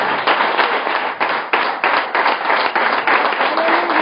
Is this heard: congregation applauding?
yes